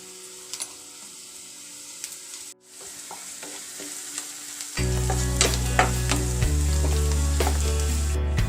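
A frying mixture with turmeric and salt being stirred in a pan: sizzling with repeated scraping and clicking of the spoon, first quieter, then swelling into a louder, denser fry with a steady hum underneath, no speech.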